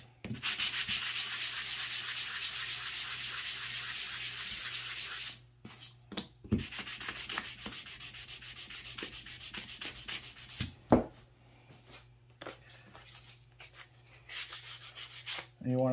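A wooden cross is hand sanded with 220 grit sandpaper in close, steady scratchy strokes, first as a continuous stretch and then as shorter, broken rubs with brief pauses between them.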